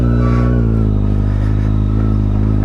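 A Kawasaki Z800 with an inline-four engine is ridden on a highway, its exhaust a loud, steady, close drone that shifts pitch slightly early on and then holds even.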